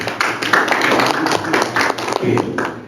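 An audience at a public hearing in Blitar claps together in a steady, dense patter for a few seconds, with a voice over it and a constant high-pitched tone in the background.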